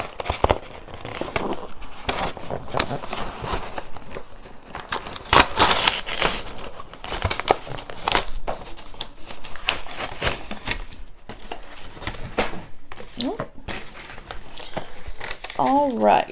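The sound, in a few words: peeling back sticker to open FetchBox dog subscription box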